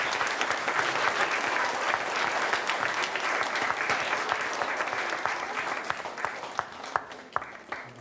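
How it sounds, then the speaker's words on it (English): A school assembly audience gives a round of applause, a dense, steady clapping that carries on for several seconds and thins toward the end. "let's give them a big round of applause too"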